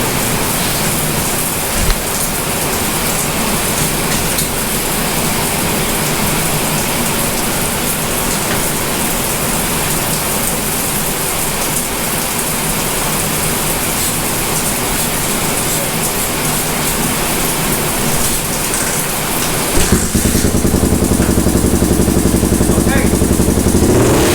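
A Honda 350 motorcycle engine, rebuilt and restarted, runs loud and close with a rough, steady roar, shifting in tone near the end.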